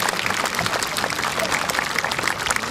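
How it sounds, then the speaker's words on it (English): At a Warwick Castle bird of prey flying display, a crowd gives dense, continuous applause for the bird Archie, with talk faintly mixed in. "let's give Archie a big round of applause"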